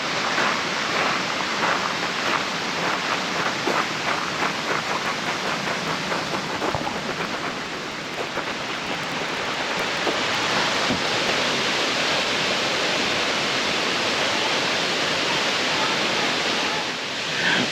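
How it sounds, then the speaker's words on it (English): Toccoa Falls in Georgia's Chattahoochee National Forest pours in a steady, roaring wash of falling water, close and unbroken throughout with only slight swells in intensity. "Let's go see what we can get down this path and look at the wonderful waterfall."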